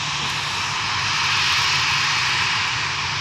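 A jet airliner landing or taking off at Edinburgh Airport, heard up close as a loud, constant engine roar with a bright hiss filling the whole span, and no talk.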